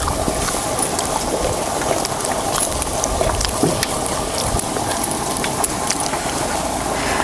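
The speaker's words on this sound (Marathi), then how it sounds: "अजून पाणी चालू आहे आवाज आलाय ना" Water runs steadily in a farm field on a cold day, a loud, even rushing wash that continues unbroken throughout, with no talking.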